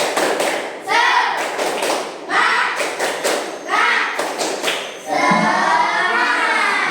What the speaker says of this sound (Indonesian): tepuk semangat dulu sekali lagi